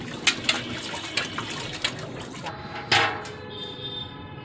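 Water splashing and pouring over a small child being bathed in a basin, a run of close, uneven sloshes and gushes that thins out toward the end, with no talk.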